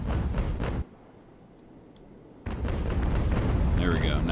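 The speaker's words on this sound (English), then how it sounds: "See if we can get some canister shot on this guy, take out some of his crew." Ship cannons fire canister shot in the Ultimate Admiral: Age of Sail naval video game, with heavy booming blasts at the start and again midway, the second rolling into a sustained rumble.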